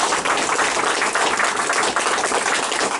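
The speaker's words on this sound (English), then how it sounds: "I want you to give yourselves a round of applause." Dense, steady applause from a large audience at a men's and families advocacy event in Ottawa, a continuous wash of many hands clapping at even loudness throughout, with no talk over it.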